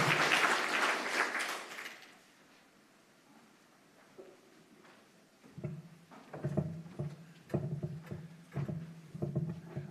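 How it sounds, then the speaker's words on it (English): Audience applause at a reef resilience symposium, a loud burst of clapping over the first two seconds that fades out, followed by quieter scattered rustling and knocking sounds. "A round of applause, please."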